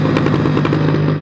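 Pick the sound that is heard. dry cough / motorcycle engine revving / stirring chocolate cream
motorcycle engine revving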